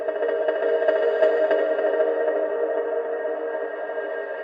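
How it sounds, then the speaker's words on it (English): A sustained, ringing tone hangs in a spacious reverb and slowly decays, the wash thinning gradually across the whole stretch without any new attack. "If you hit pause, you can see how long it fades out. And that's quite a long reverb here."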